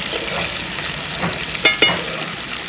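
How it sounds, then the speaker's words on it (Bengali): Dain fish frying in oil in a pan over low heat, a continuous crackling sizzle with two sharp utensil clicks near the end. "হালকা জাল দিয়ে মাছটা ভেজে নিতে হবে"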